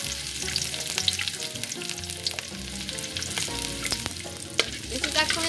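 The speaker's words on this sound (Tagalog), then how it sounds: "I already preheat it, so there is already oil. So, I'm gonna add the onion." Chopped onion frying in preheated oil in a pan for a carbonara: a steady, close sizzle with scattered clicks and scrapes of stirring, no talking.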